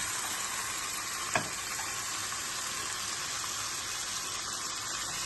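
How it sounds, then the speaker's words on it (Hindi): Chicken frying in a pan over medium heat gives a steady, even sizzle and crackle throughout, fairly close, with one brief tap partway through and no talking. "मीडियम हीट कर देनी है और चिकन को जो है 2 मिनट के लिए फ्राई करना है"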